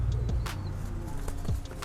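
Pigeons cooing softly close by while being fed, low throaty coos mixed with a few flutters and scattered small noises.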